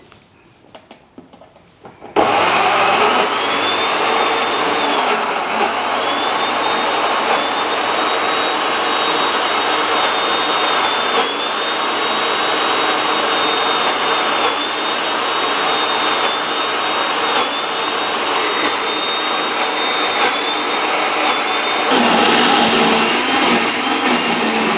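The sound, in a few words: blender whizzing sesame seeds and oil into tahini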